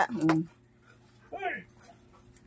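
An excited dog gives a short whimpering yelp, then a rising whine moments later, close by, with a person murmuring softly between the sounds.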